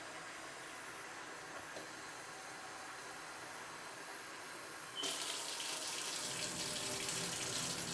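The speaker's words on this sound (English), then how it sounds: "I'm adding right now 3 cups of water." Water runs from a tap into a cooking pot for Spanish rice, first a steady low hiss and then a louder, brighter gush from about five seconds on, with no talking.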